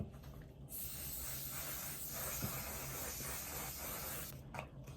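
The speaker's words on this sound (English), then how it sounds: "I'm gonna spray my face with the one size." A face mist bottle sprays onto a face in one long steady hiss lasting several seconds, close and fairly quiet, starting and stopping abruptly.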